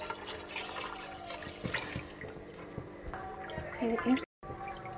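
Water poured from a full jug into a cooking pot for kadhi pakora, a close splashing gush over kitchen clatter, ending with a brief drop to silence.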